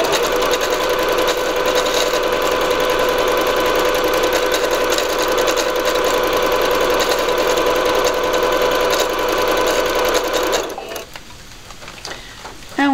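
A Singer Patchwork sewing machine runs steadily, sewing decorative stitch pattern 37 in one loud continuous whir, then stops near the end, leaving quiet handling noises.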